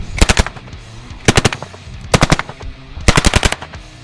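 Polish PM63 machine pistol firing in full auto: four short, sharp bursts of rapid shots, loud and close, separated by brief pauses, with no talk.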